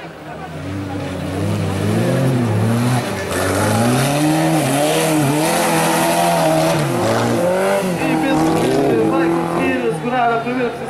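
Stock race cars roar past on a track at Cabeço de Mira, engines rising and falling in pitch as they shift and accelerate, with a loud announcer talking over them in Portuguese.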